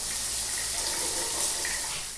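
Shower water pours in a steady, continuous hiss while conditioner is rinsed out of curly hair. The spray is close and even, with no voices.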